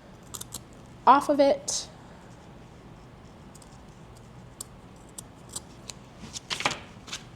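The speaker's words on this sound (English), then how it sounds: "I'm gonna trim the excess tail pieces that I don't want" Scissors snip off the excess tail pieces of a napkin craft bow in a short burst of close, crisp cuts, with a few quieter snips and rustles afterward and a voice speaking briefly.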